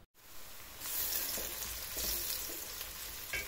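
Onions, peppers and garlic sizzle and crackle steadily in hot oil, a close, continuous frying hiss with occasional small pops and no talking.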